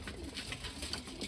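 Several pigeons feeding on grain at a loft give soft, low, repeated cooing, faint and close with a gentle rhythmic pulse.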